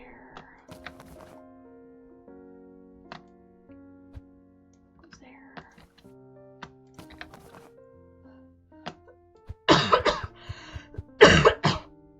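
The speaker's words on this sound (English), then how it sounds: "So I'm sorry for the coughing." Person coughing and clearing their throat, a few soft throat sounds early on, then two loud harsh cough bursts near the end, over quiet game music with faint clicks.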